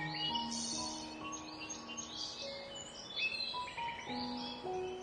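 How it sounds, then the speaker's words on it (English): Birds sing on a mountainside, with faint, scattered chirps and trilling calls overlapping at a distance for several seconds and no voices. "Listen to the birds singing."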